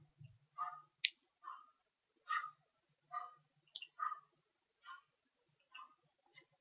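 Sharp computer mouse clicks land at a steady, unhurried pace, about eight separate clicks against near silence, while someone works through an online mock test.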